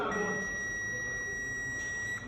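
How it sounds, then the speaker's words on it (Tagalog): Digital multimeter in continuity mode gives a long, steady beep while testing a shorted base-emitter junction on a BJT transistor, one unbroken tone held close and clear throughout. "there is a long beep, continuous beep"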